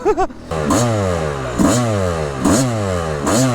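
A two-stroke hard enduro motorcycle engine revs hard up close, its pitch rising and falling in repeated throttle blips about once a second, loud and raspy with no talk over it.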